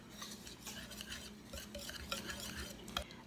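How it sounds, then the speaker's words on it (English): Sugar, baking powder and salt being whisked together in a bowl for a cast iron peach cobbler, a quiet, steady rhythmic scraping and tapping of the whisk against the bowl. "you just want to go ahead and whisk everything together"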